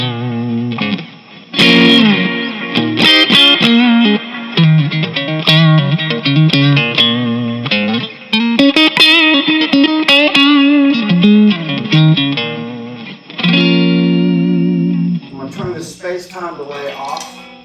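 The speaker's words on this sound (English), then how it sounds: "I want to show you this amp with my trusty old Strat. Now here's the neck position." A Stratocaster on its neck pickup through a LonghornAmps El Capitan amp with internal reverb plays clean, warm, round chords and melodic runs, with a pause and brief sliding notes near the end.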